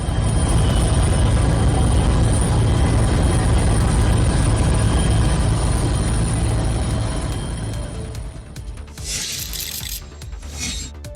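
A helicopter flies over pilgrims arriving in Meerut, Uttar Pradesh, showering them with flowers. A loud, dense rotor roar holds steady, then thins and fades toward the end as a few brief bursts of noise break through.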